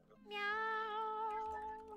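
A single drawn-out cat meow rises and holds for over a second, clear and close against a quiet background, fading slightly at the end.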